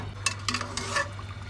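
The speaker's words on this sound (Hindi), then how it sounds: "अब जब दही डाल दिया है तो अच्छी तरीके से आप इसको भून लें।" Meat for pulao is being fried with yogurt in a pot. A spoon scrapes and stirs in a few quick strokes over a soft, steady sizzle.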